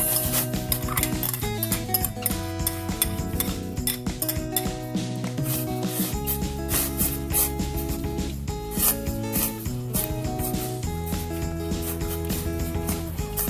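Repeated scraping and rubbing of a utensil stirring glutinous rice in a pot of water for champorado, steady and close, with music playing underneath and no voices.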